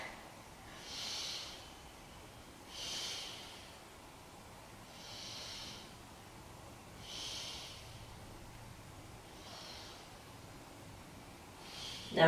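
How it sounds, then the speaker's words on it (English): Slow, deep breaths during a beginner yoga pose, drawn in and out about six times at an even, unhurried pace of roughly one every two seconds, soft and close with no talking. "Take three big breaths into your back."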